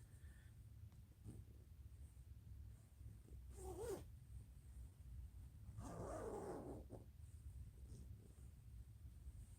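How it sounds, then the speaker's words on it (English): A clothing zipper is pulled open and closed in two quiet, close rasping strokes a couple of seconds apart, over a low background hum with no talk. "Wow, zippers are satisfying."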